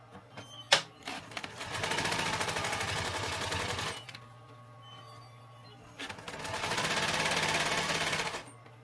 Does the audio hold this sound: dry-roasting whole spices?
no